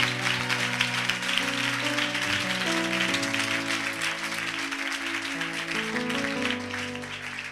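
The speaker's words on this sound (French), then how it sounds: "si tu veux acclamer, acclame bien" Church congregation clapping in sustained applause over held keyboard chords, the clapping dense and steady throughout at moderate loudness.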